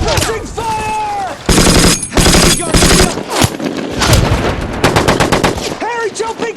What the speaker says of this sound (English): The bullets firing overhead like fireworks.